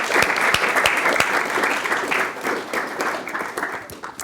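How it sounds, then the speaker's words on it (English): Guests at a wedding ceremony at Heythrop Park break into warm, steady applause, many hands clapping close by and tapering slightly toward the end. "A round of applause"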